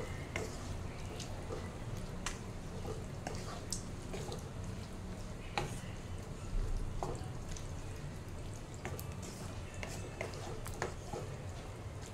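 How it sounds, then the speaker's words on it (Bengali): Chickpeas for chole are stirred with spices in a pan, giving soft scraping and light sizzling with small clinks of the spoon, faint and continuous throughout. "মশলার সাথে ভালো করে এটা মিশে যাক"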